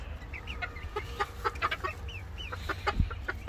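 Blue Silver chickens cluck nearby in a farm yard, with a rooster's short, repeated cackles and chatter coming in quick, uneven bursts over a low background rumble.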